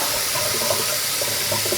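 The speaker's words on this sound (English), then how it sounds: "The water temperature is good enough now that I can pour it out completely and not burn myself." Hot water poured out of a container, a loud continuous gushing splash up close with no talk.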